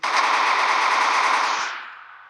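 Continuous rapid automatic gunfire from a machine gun with unlimited ammo in the Special Forces Group 2 video game, a dense steady rattle for about two seconds that then fades out, loud and close with no talk.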